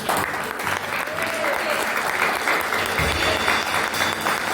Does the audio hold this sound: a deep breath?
no